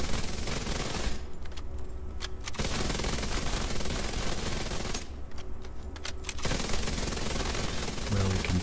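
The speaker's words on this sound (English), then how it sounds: "Now we will use sustained fire." Sustained automatic FAMAS rifle fire in the video game The Division 2, two long unbroken bursts of rapid shots, loud and dense, with brief dips between them.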